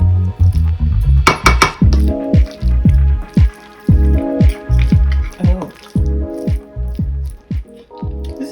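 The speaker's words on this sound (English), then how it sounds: "Stir it up again." A pumpkin salad seasoned with dry parsley is stirred in a bowl, producing wet, squishy squelches in an uneven rhythm with occasional light clinks of the utensil, close and fairly loud.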